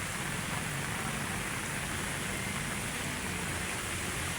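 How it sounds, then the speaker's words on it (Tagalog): Heavy rain pours over Manila Bay in a dense, even hiss that holds steady from start to finish, a fairly quiet broadband wash with no voices over it. "Ayan, ang lakas ng ulan"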